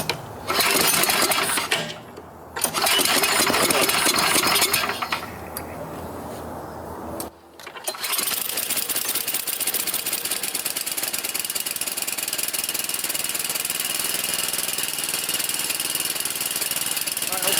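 A 22-year-old Craftsman 30-inch snowblower with a new friction disc, its engine running steadily and loud, with a broken, clattering start before it settles into a continuous drone.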